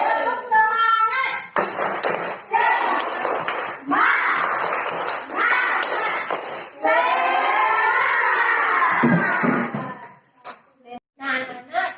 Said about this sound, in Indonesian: kita lakukan tepuk semangat